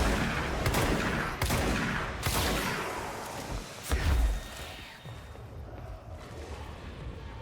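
Magnum gunfire in the action game Control: several loud, sharp shots spaced a second or so apart, each with a booming tail, followed by quieter game ambience and no speech.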